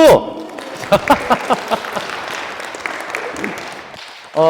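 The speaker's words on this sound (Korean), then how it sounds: "박수!" Audience applause at a parish parenting lecture in a Catholic church hall, a spread of clapping with several sharper bursts near the start, mixed with speech-like voices over much of the stretch, ending with a voice.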